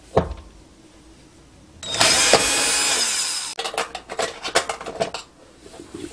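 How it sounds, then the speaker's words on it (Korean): Metal screws are loosened from the top cover of a kitchen sink drain with a power driver, giving a light clatter, then a steady whirring burst of about two seconds, followed by close, sharp metallic clicks and scrapes. "여기에 먼저 나사를 풀어줘야 됩니다"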